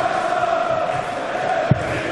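Spectators at a European Darts Trophy match in a crowded hall create a constant murmuring roar with faint chanting, broken by a single soft knock near the end.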